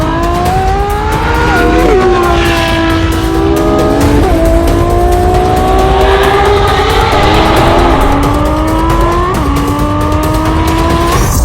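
Novitec Ferrari 12Cilindri V12 with an Inconel exhaust revving loudly and up close, its engine note climbing and dropping through repeated gear shifts in a continuous high-pitched wail.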